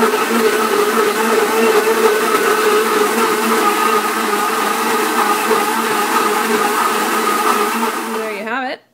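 A blender purees apples with their peels for applesauce, a loud, steady whirring motor that holds constant for several seconds, then winds down and cuts off abruptly at the end.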